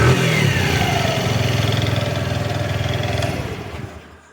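Rebuilt Bajaj Platina CT100 motorcycle with a KB4S engine, running close up. It holds a steady, throbbing idle with mild revving, then drops off at the very end. No talking.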